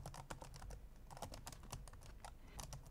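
Quiet typing on a computer keyboard while setting up a DLNA media server, a rapid, irregular patter of light key clicks heard up close with no talking.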